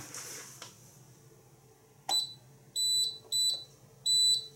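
A Saft URA fire alarm control panel from 1998 is tested, giving four short, loud electronic beeps in an uneven rhythm after some quiet handling sounds.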